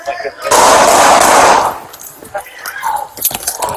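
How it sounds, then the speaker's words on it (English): Rapid burst of gunfire in a police shootout with a hostage-taker, a loud dense volley lasting over a second, followed by scattered pops and officers shouting nearby. "Shots fired."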